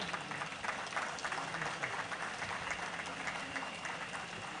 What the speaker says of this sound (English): I think it's important for us to give a very resounding applause to our chairman and founder, Dr. Jim Ovia, CFR.